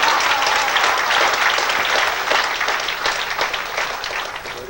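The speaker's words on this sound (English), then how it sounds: "a large round of applause for a very talented lady" Audience applause for a performer at a live show, a loud, full round of clapping that stays strong and then eases slightly as individual claps become more distinct.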